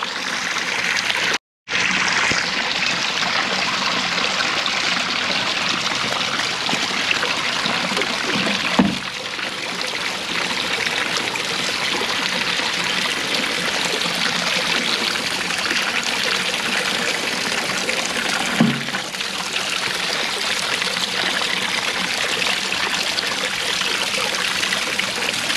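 Water trickles and flows steadily inside a farm high tunnel, a continuous close splashing stream that runs the whole time with only a brief dropout near the start and two small knocks.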